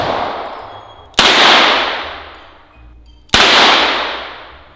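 Two loud revolver shots fired at a bulletproof vest, each a sharp crack with a long echoing decay, spaced about two seconds apart, with no talking.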